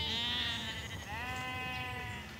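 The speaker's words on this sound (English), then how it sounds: "So we've got sheep up there and sheep up there." Sheep bleat while being herded from the fields on a farm, several overlapping wavering calls, fairly close and loud, with no speech.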